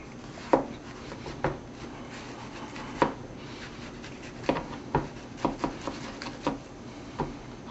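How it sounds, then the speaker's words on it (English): A knife cores a tomato on a cutting board for salsa, with a series of short, sharp cutting and tapping sounds at irregular intervals, close and moderately loud against quiet kitchen background. "We'll start by coring our tomato."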